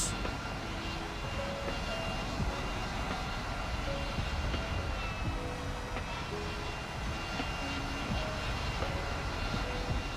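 Harrier jet engine in the War Thunder video game during formation flying, a dense, continuous roar with a steady drone and faint tonal hums layered through it. It stays loud and unbroken with no talking.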